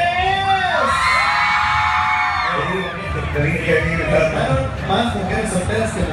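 A crowd of women at a fair in Ciudad Fernández, San Luis Potosí, shouts, whoops and cheers loudly together, voices overlapping in a sustained, excited roar.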